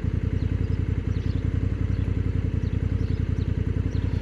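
The engine of a 2024 Honda Africa Twin Adventure Sports motorcycle runs steadily nearby, with a fast, even pulsing throb and a slight mechanical clatter and no change in pace.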